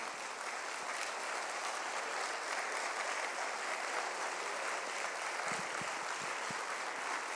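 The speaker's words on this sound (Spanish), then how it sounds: "Demos un aplauso a nuestro Dios" A church congregation applauds to praise God, a steady wash of many hands clapping at moderate distance, sustained throughout with no voices rising above it.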